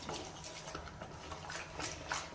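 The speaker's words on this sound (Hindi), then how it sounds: "इन सारी चीज़ों को करेंगे अच्छे से मिक्स।" A spoon stirs spices into yogurt for a chicken tikka marinade, giving a steady, soft, wet scraping with light clinks against the bowl, close up and with no talk.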